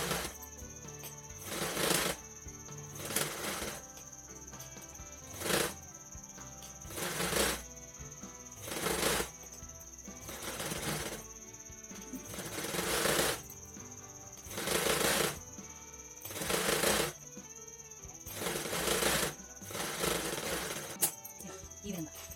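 A sewing machine stitches blouse back dories in short repeated bursts, about a dozen close, loud runs with pauses between them. A faint steady hum continues underneath.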